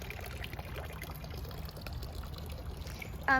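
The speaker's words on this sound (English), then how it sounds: "This fountain's nice because it's not so loud." A steady splashing and trickling of water from a fountain, moderately close and constant.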